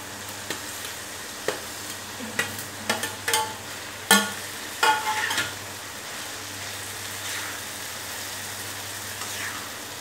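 Pav bhaji vegetables with peas and potato being stirred on a tawa, a soft steady sizzle with a run of sharp spatula scrapes and clacks in the first half, then the frying continues more quietly alone.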